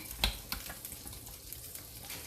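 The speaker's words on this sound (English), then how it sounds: "Let's give this a quick little stir." Beef stew stirred in a pot, soft wet scraping and clinks of a spoon with a few sharper knocks, faint and close, no talking.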